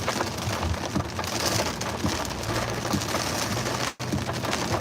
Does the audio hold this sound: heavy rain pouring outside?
yes